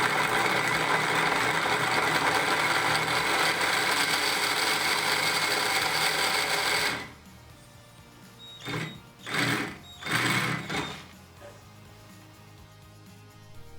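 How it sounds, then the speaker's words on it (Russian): A cordless drill in drilling mode spins the wheel of a rope-twisting machine with a loud, steady whir for about seven seconds, then stops, followed by a few short bursts of lower mechanical whirring and rattling. "Попробую крутить колесо этого устройства шуруповертом в режиме сверления."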